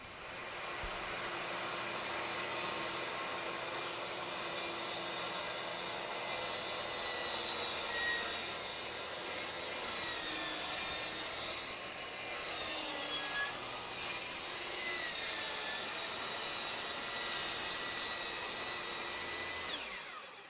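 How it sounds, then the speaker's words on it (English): A track saw plunges down and cuts along the length of the rail, through its anti-chip edge: a loud, continuous whining motor and rough cutting noise that runs steadily for about twenty seconds, with no talking. "we're going to unlock the saw so we are able to plunge the saw down just deep enough to cut through the anti-chip edge"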